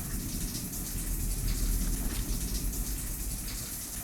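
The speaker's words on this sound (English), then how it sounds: "I can hear running water." Running water in the 2010 FPS Creator game Euthanasia is a steady, loud rushing gush like a shower or open tap, continuous and broadband throughout with no voices.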